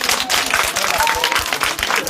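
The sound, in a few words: people clapping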